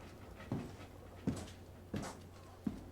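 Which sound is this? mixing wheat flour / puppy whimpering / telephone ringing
puppy whimpering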